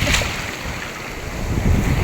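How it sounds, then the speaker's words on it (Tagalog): Big waves surging around a small fishing boat at sea, a continuous rough wash of water and wind buffeting, loud and close with no talk. "ano laki ng alon dito"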